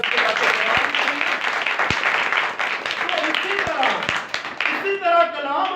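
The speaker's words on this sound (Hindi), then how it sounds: "जोरदार तालियां उसके लिए" Loud, dense applause from a church congregation at a Pakistani Christian ministry service, sustained throughout with a few sharp claps standing out, and a voice rising near the end.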